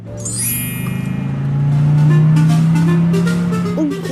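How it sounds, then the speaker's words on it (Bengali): A new cartoon car makes a loud booming engine drone that swells and holds, with a whistling tone sweeping down at the start and a few brief sounds near the end. "গাড়িটা বুম বুম করতেছে কেন সাম্বা?"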